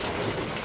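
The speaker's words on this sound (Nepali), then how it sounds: "पानी पर्दैछ" Steady rain falls in a dense, even hiss for a brief moment, close and with no pauses.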